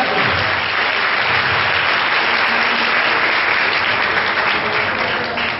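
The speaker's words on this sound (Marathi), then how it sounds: "टाळ्या वाजवून देवाचं गौरव करायचं." A church congregation in a hall claps in praise, producing loud, dense, continuous applause from many hands throughout, close and without speech.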